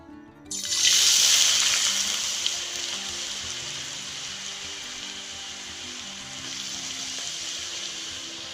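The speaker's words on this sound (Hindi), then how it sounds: "आलूओं को बहुत ही सावधानी से डालें, डालते ही एकदम से बबल आते हैं।" Shredded potato strands dropped into medium-hot oil for crisp aloo lachha namkeen burst into loud, bubbling sizzle, then settle into a steady, close frying hiss throughout.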